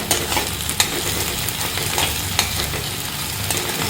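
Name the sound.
ginger garlic paste sautéing in a pan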